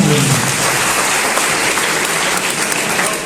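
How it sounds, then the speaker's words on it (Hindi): An audience at a school poetry recital gives loud, sustained applause, a dense continuous roar of clapping that holds evenly throughout without any talk. "तालियां भाई जोरदार।"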